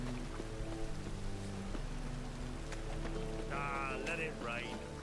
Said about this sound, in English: Let it rain